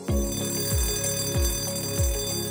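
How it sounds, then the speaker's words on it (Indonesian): A factory emergency alarm sounds in a repeating pattern, four evenly spaced falling tones over a steady ringing hum, moderately loud and with no voices. "Keadaan darurat ditandai dengan bunyi alarm."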